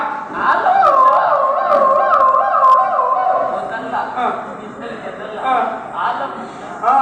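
A wailing ambulance siren rises and falls steadily in the foreground, with people talking and chuckling over it throughout.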